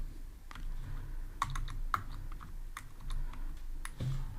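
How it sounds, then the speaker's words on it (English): Someone types code on a computer keyboard, with quick irregular clicks and clusters of keystrokes close by over a quiet room, and no voices. "Then I'm gonna type"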